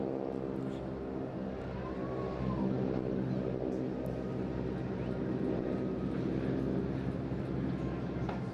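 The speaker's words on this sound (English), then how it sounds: "Oh, and there goes that rasp on the engine." A propeller aircraft engine rasps steadily during an airshow display at Eastbourne, a continuous droning roar heard from a distance with its pitch shifting slightly as the plane passes.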